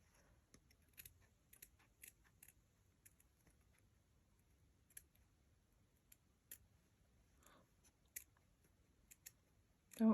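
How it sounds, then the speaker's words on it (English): Quiet, close snips of curved scissors cutting material for a Christmas hat headband, a scattered series of small crisp clicks and crunches with pauses between them. "I'm using my curved scissors."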